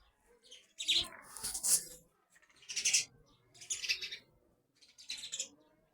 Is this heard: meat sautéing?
no